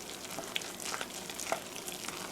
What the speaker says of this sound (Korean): 한 컵을 끓는 물에 익반죽하는 거예요. 이렇게 해서 고루 섞어주세요.